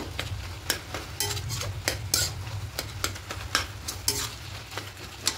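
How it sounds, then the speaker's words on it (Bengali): A spatula scrapes and taps against a pan as cabbage and potatoes, cooked with hilsa fish head, are stirred, with sharp intermittent clinks over a steady low sizzle. "এইভাবে আলুগুলোকে একটু ঘেটে দেবো খুন্তি দিয়ে।"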